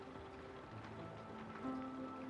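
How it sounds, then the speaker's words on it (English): Soft, steady rain patters against a window pane at a low, even level, with faint sustained tones underneath and no voices. "Rain tapped gently on the window pane, and Aira leaned her head against the glass."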